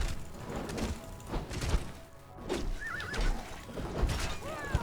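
A horse in the video game Conan Exiles whinnies clearly over a busy game soundscape, with a wavering neigh midway and thuds and hoof clops around it.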